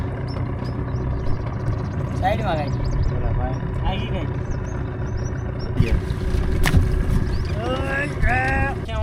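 A small boat on dam water nears the shore with a continuous low engine-like rumble and water wash, while people talk over it and faint birdsong chirps in the background.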